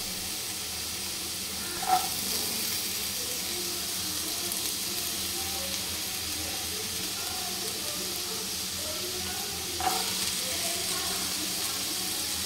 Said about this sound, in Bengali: সাদা তেল দিয়ে দিলাম, দেওয়ার পরে আলু, লঙ্কা একসঙ্গে ভেজে নিলাম।